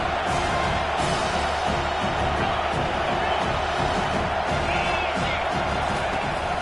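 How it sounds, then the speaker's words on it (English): A home crowd at an American football game roars without a break as the defense tries to get off the field on third down. The cheering is loud, dense and sustained from start to finish. "Here comes this home crowd as the defense tries to get off the field on 3rd down."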